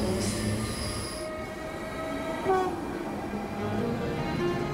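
A commuter train rolls along the rails with sustained metallic wheel squeal and steady rumble, high screeching tones fading early while a broad running roar continues throughout, close and fairly loud.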